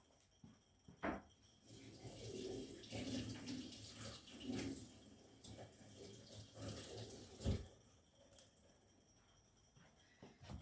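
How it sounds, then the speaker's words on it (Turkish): Onion halves being rinsed under a running kitchen tap, a steady close stream of water splashing into a sink with brief louder gushes, no talking. "tekrar acı suyunu almak için yıkayacağım"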